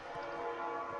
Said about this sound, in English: Look, there's another train.